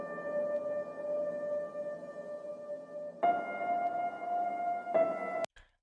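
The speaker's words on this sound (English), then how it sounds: "the first one is a trailer-like piano" Trailer-style piano in an epic hybrid mix, sustained chords ringing with a clear pitched tone, a louder new chord entering midway and another near the end before a sudden cutoff.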